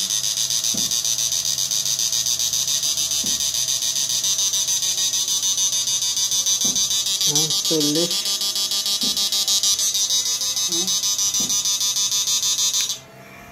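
A Samus 2500M Panasonic ultrasonic inverter machine runs with a loud, steady, high-pitched electronic whine. The whine holds constant for several seconds, brief talk passes over it, and it cuts off abruptly at the end.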